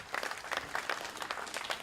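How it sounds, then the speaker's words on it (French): Scattered applause from a small audience, a thin patter of claps in quick irregular bursts, moderately close and not very loud. "Je vous demande d'applaudir Jean Case"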